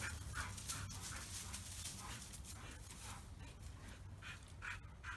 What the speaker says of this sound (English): I'm glad that they're getting tired. They're panting.